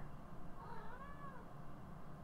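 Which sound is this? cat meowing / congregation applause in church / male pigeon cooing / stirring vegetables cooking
cat meowing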